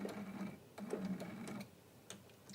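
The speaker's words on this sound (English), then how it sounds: "Stitch right into the corner" A sewing machine stitches into the corner of a quilt block in short, quiet bursts of rapid mechanical chatter separated by brief pauses, faint and close.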